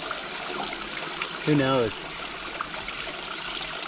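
Water flowing steadily at a micro hydro intake after winter damage, with collapsed rock around the intake; a broad, continuous wash of running water under a brief spoken remark.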